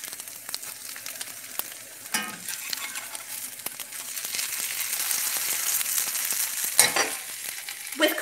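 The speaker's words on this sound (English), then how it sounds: "Frying Up Potato Cakes." Potato cakes fry in a skillet with a steady, close sizzle that grows louder partway through, broken by a few spatula scrapes and clinks as the cakes are turned.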